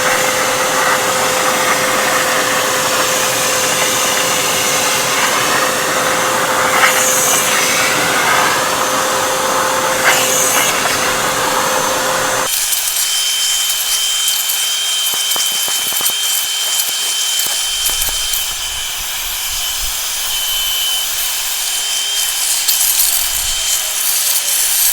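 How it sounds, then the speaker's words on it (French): A carpet shampooer's vacuum extracts dirt from Porsche Cayenne upholstery, a loud continuous motor whine and airy suction running throughout, with a sudden change in pitch and tone midway as the nozzle moves, and no talking. "Donc là je vais uniquement extraire la saleté et ensuite je vais passer avec injection extraction."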